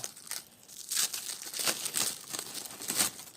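Plastic packaging around a block of Rainbow brand modelling plasticine crinkles and rustles as it is unwrapped, soft and close in uneven bursts over a few seconds, with no talking.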